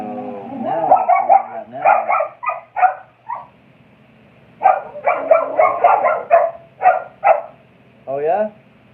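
A dog barks and yips in two bursts of rapid, loud, close barking with a brief howl-like whine at the start and end, separated by a quiet pause.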